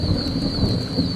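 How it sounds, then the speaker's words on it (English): Thunder during a tropical storm landfall in Florida: a loud continuous low rumble under steady rain, with no voices. "the thunder is very loud"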